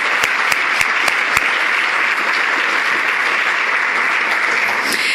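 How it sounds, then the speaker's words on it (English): Audience applause at a summit for the week's speakers, a dense, even wash of clapping sustained throughout, with a few sharper claps standing out near the start. "let's give a round of applause to all the speakers this week for making it a success"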